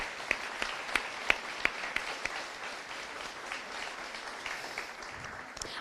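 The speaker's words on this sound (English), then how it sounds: "Can we please give them a round of applause?" Applause from an audience at a welcome reception at an art center, a steady wash of many hands clapping with a few sharper claps standing out early on, moderately distant and without speech.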